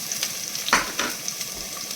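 Onions frying in a pan with garlic for a white sauce pasta, a soft steady sizzle broken by a few louder stirring scrapes and pops, close by with no talking.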